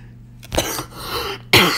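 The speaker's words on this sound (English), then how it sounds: "I still have a cough with me" A single person's cough with throat clearing during a mobile shooter gaming session, two harsh bursts close to the microphone with a short pause between.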